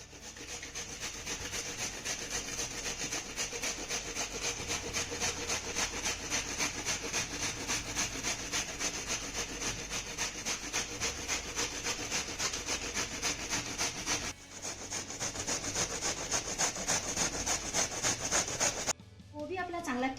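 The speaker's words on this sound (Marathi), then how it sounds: "आपण आता हा कोबी किसून घेऊया." Cabbage is rubbed quickly back and forth over a kitchen grater, making a fast, steady rhythmic scraping that runs almost unbroken with one brief pause. A voice is heard faintly near the end.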